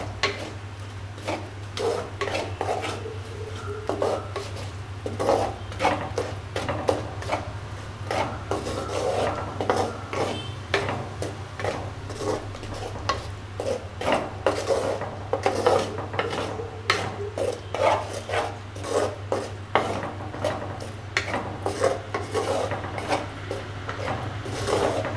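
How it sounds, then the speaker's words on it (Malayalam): A spoon scrapes and rasps steadily around a pan of Kerala-style tuna curry with ground coconut masala, continuous close stirring and clinking over a low hum, with no voices. "നന്നായിട്ടൊന്ന് ഇളക്കി കൊടുക്കുക."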